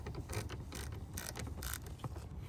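Ratchet on a 3/8 extension loosening the transmission fill plug on a Kia Sorento, giving a run of quick, close mechanical clicks and metallic rattling with a few sharper ticks, no voices.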